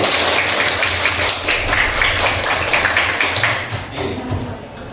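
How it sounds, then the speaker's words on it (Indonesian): A school class claps hands together in a classroom, a loud, close, irregular patter of many hands with some thumps and a low background hum, easing slightly toward the end. "Tepuk tangan buat kalian."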